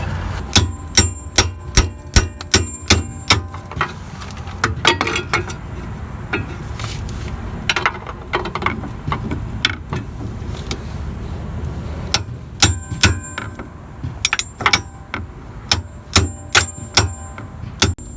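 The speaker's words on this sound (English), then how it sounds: "So now we need to tap these down, these flaps over here, this washer." A small hammer taps down the metal flaps of a washer during tie rod end replacement on a 2002-2006 Toyota Camry, with bursts of sharp, ringing metallic strikes in quick rhythmic runs, separated by quieter stretches of handling noise.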